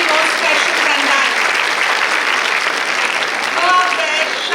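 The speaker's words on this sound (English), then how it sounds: "So give yourself a clap." A graduation ceremony audience gives sustained, dense applause from many hands, loud and steady throughout, with no pauses.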